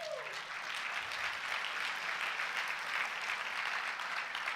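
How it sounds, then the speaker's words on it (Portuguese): A church congregation at a pastors' gathering breaks into sustained applause, a dense, even wash of clapping throughout, with a brief vocal tail fading at the start. "Vamos dar um aplauso a Jesus"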